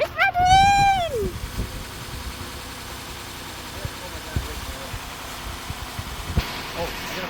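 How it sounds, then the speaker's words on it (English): A 2012 Acura MDX engine cranks with a rising starter whine, catches, then settles into a steady low idle with faint clicks and shuffling nearby. "here is a clip of the car starting and everything ran really well"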